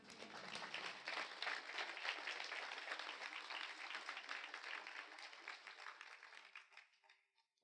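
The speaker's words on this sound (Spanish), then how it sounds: "¿Podemos dar un aplauso al Señor?" A church congregation claps for the Lord during a Spanish-language sermon, a dense, lively burst of hands that holds steady for several seconds, then thins and fades out toward the end.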